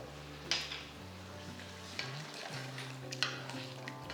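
Chicken with yogurt being stirred in a frying pan for Lucknowi chicken biryani, a soft sizzle under scraping and a few sharp spoon knocks against the pan.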